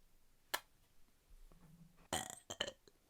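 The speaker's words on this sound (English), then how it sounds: "What if I just burp every section break?" A person lets out several burps, a short sharp one first, then a louder, longer belch followed by two brief ones, all close to the listener and alone without speech.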